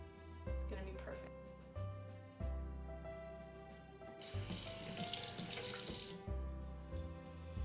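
Running tap water at a kitchen sink, rinsing a finger sticky from smoothing meringue mushroom caps; a steady hiss of water about two seconds long, over background music.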